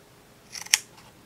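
Scissors make a quick snip or two while notches are cut around a ring for a dream catcher craft, short and close with light rustling.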